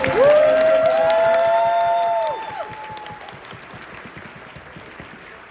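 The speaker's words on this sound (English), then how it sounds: "Give a round of applause for Situated generosity." Audience applause at a doll convention, loud at first with a tonal voice or music over it, then thinning out and fading to scattered claps.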